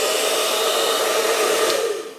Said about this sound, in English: plug the hairdryer in